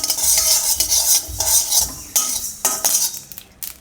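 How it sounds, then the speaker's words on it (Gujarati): Cumin and whole black peppercorns dry-roasting in a hot pan, with loud scraping and clinking of a metal spoon stirring against the pan over a light sizzle, with no voices. "તો આ બધું આપણે એમનો શેકી લેવું થોડીક વાર."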